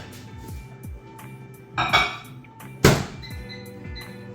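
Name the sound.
bowl put into microwave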